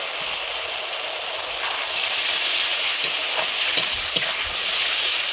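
Ground tomato paste sautéing in an oiled pan for a pointed-gourd korma, giving a loud, continuous, close sizzle with occasional spatula scrapes and pops, no voices.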